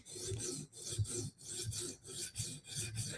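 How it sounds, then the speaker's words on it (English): A knife blade is sharpened against an abrasive in steady back-and-forth strokes, a rhythmic raspy rubbing about three strokes per second, close and alone. "So we're just creating a burr right now, making sure that we're actually apexing the edge, which we should be."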